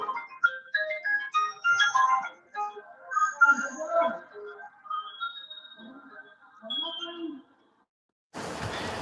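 A mobile phone ringtone plays a bright, melodic tune of repeated tonal notes for about seven seconds, mixed with nearby voices, then cuts off before a burst of noise.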